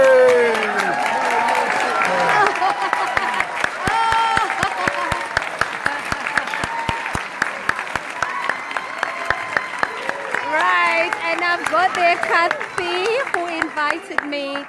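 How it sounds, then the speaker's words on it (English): A large conference audience claps steadily for visiting US and Canadian market partners, a dense sustained patter with sharp individual claps standing out, while a speaker's voice carries on over the top throughout. "Please stand up so that we can applaud you."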